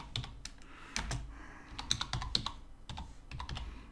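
Fingers type on a computer keyboard set to Spanish, giving quick irregular clicks close by with brief pauses between bursts.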